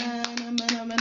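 A church congregation claps and cheers during a midnight prayer service, with five or six sharp clap bursts landing over a steady sung or sustained tone.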